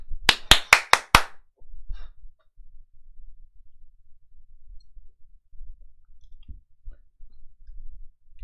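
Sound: applause, clapping hands

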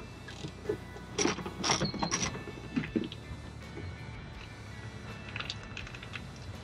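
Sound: removing CB radio trim bolts with 8mm socket

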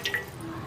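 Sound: water being added into a pan

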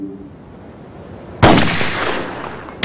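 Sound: sniper rifle gunshot from a rooftop

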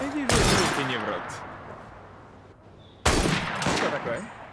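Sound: rifle shots in video game Assassin's Creed Syndicate

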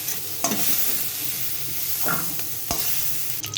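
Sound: beans and peas frying and stirred in a wok

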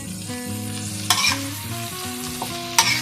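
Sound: stir-frying vegetables and fresh chili with oyster sauce

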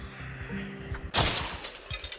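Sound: window smashed in Project Zomboid video game

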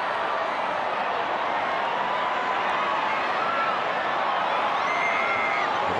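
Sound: rugby crowd cheering at Tonga versus Australia match

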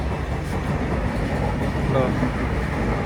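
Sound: train starting to move

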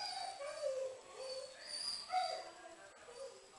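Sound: puppy whimpering

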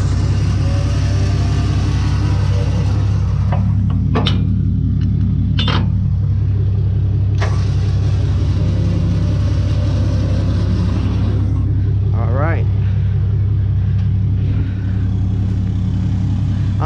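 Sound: winch pulling a heavy dumpster onto a gooseneck dump trailer

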